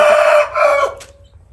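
A fighting rooster raised for Sankranti cockfights crows once, loud and close, a harmonic call that rises, breaks and trails off over quiet farmyard background.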